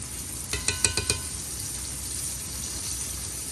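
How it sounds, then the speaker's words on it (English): Steady hiss of chicken sizzling in a pan, with a quick run of crackles and pops early on, then even frying. "Smells like Grandma's house now with the chicken frying"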